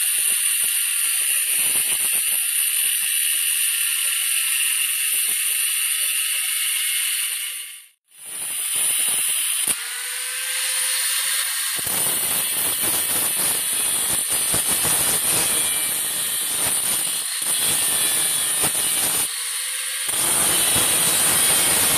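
A power tool cuts the end off a bolt with a 1-inch head during a 1968–74 Nova disc brake conversion, giving a loud, sustained harsh hissing grind that briefly cuts out mid-way, with no speech.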